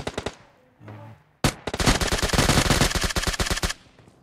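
An M249 machine gun fires in a video game, starting with a short burst, then after a brief pause a long, rapid, loud volley of shots in tight rhythm.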